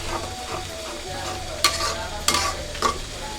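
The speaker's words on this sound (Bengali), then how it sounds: "মশলাটা কষাতে থাকবো, ভালো করে কষাবো, তেল উঠে আসা পর্যন্ত কষাবো।" Spice paste with coriander powder stir-fried in oil for a stingray fish dish, a close steady sizzle broken by three sharp scraping stirs.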